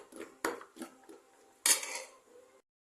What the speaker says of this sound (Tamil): கொஞ்சமாக நம்ம மூடி போட்டு வைப்போம்